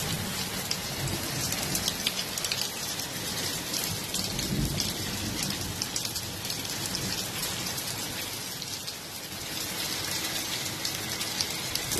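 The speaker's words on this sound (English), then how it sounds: "Let the record show that it's lightning and thunder on February 4th, 2021." Steady rain falls hard on surfaces during a thunderstorm in Sharm, forming a dense continuous hiss, while low rumbles of thunder roll underneath, strongest around the middle and swelling again near the end.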